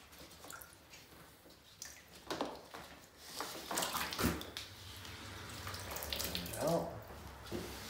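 Running tap water wetting paper drywall tape over a sink during taping work in a junk mobile home, a steady splashing stream with swells in intensity, some faint background voice under it.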